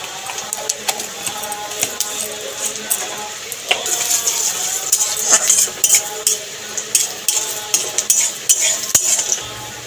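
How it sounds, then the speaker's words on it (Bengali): A spoon stirs and scrapes in a pan as whole cumin and asafoetida powder fry for a dal tempering, with busy metallic clinks and a light sizzle throughout, louder toward the end. "নেড়ে চেড়ে ফোড়নটাকে ভেজে নেব। তার মধ্যে দিয়ে দিলাম একটু হিঙের গুঁড়ো।"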